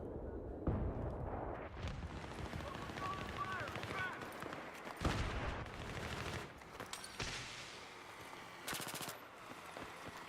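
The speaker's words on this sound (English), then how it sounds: "They're dropping the mortars." Mortar shells burst repeatedly in a modern military video game, a dense barrage of loud booms and crackling gunfire overlapping one another, with voices talking over the chaos.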